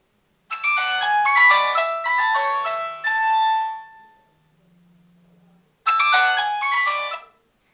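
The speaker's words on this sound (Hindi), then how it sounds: "यहाँ पर मैं कॉल कर लेता हूँ इस फ़ोन के ऊपर।" A Nokia 125 mobile phone rings with an incoming call: a loud, bright melodic ringtone plays for about three seconds, dies away into a faint low hum, then a second burst of the tune starts.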